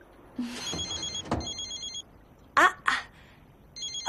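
A telephone rings in short repeated bursts of an electronic ringtone, moderately near, with pauses between rings and a couple of brief louder noises in the middle.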